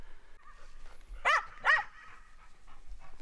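Two sharp, fairly close dog barks sound in quick succession, with faint quieter yips before and after in an otherwise calm setting.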